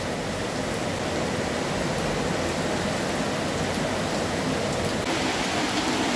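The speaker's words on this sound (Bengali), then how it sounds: "দেখো প্রচুর বৃষ্টি, প্রচন্ড বৃষ্টি।" Heavy rain pours steadily, a dense, loud, unbroken wash of falling water close by, with no voices.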